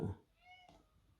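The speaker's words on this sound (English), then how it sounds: "My cat has just come to visit me." Domestic cat meowing indoors, a single short tonal meow close by following a brief soft thump.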